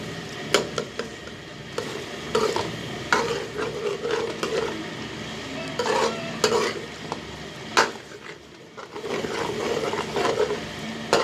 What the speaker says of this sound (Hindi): ये इनके टमाटर को इस तरीके से सही तरीके से दोबारा हम मिक्स कर रहे हैं